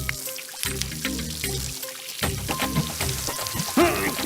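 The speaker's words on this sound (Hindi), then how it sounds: "लग रहा है बारिश शुरू हो गई है" Rain patters and splashes steadily, mixed with clunks and other intermittent sounds nearby.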